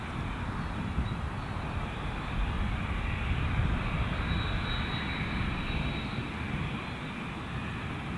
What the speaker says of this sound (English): I'm not sure what that aircraft is that we can hear